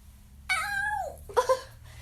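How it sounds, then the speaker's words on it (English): A pet cat lets out a drawn-out, wavering meow followed moments later by a shorter, sharper second cry, both close and fairly loud over a quiet room hum. "That Gidget's her cat, by the way"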